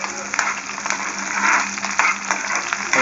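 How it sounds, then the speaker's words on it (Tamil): Pieces of eggplant (brinjal) fry in a pan for vathakuzhambu, giving off a steady, close sizzle dotted with small crackles and pops. "கத்திரிக்காவை போட்டு லேசாக ஃப்ரை பண்ணிவிட்டு"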